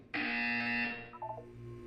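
A harsh, loud electronic buzzer blares once inside a Portal 2 test chamber, a sustained distorted tone lasting under a second before breaking into a few short fading electronic blips.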